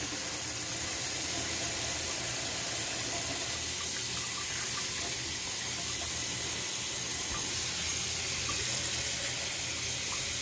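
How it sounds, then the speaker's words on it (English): Hot water runs from a tap into a betta bowl with a steady, loud, unbroken hiss and gush that lasts throughout. "Alright, let it fill up."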